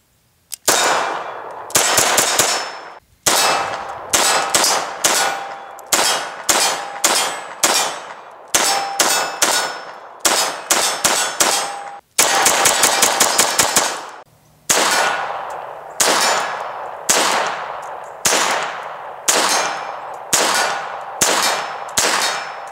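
A Bersa Thunder 380 pistol fires 94-grain .380 rounds at a shooting range, with loud, sharp reports in quick strings and rapid volleys, each shot ringing with a metallic clang, separated by short pauses throughout.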